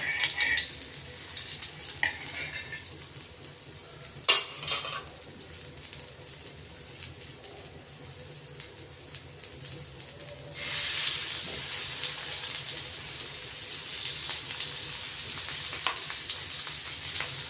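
Surmai fish pieces fry in an open pan, giving a continuous hissing sizzle with a few sharp clinks as fish is placed and turned, the sizzle growing louder and denser toward the end.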